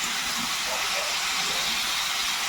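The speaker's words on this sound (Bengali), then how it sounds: "আলুর সঙ্গে একসঙ্গে ভেজে নেব।" Cauliflower florets and potato pieces frying in hot oil, a loud, even sizzling hiss with fine crackling that runs unbroken and close for the whole stretch.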